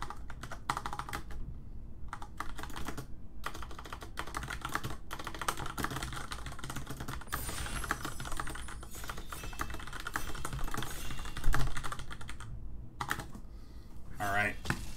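Rapid typing on a computer keyboard, a dense run of sharp clicks at close range with a few brief pauses, while a person talks over it at times.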